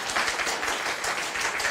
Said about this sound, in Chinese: 给我们多一点拍拍手啊